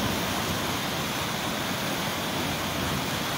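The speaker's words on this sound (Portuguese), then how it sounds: "Olha só, para você ter ideia, a força da água. Ó, você pode ouvir o som da água." A stream swollen by heavy rain, the Ribeirão dos Toledos in Santa Bárbara d'Oeste, rushes with a loud, steady broadband roar, constant and close.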